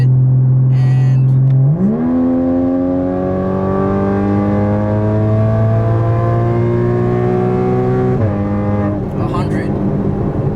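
Porsche 981 Cayman in sport mode and sixth gear, its engine droning loudly inside the cabin, then rising steadily in pitch as it accelerates, with a brief shift in tone near the end and some faint talk.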